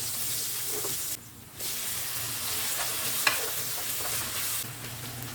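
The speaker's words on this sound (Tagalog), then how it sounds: "Igisa lamang ang bawang at sibuyas. Pag nagisa na, isunod na rin natin yung kamatis." Garlic and onion sautéing with tomatoes in a pan for Filipino poqui poqui, giving a steady close sizzle with scraping stir sounds and a brief quieter dip partway through, no talking.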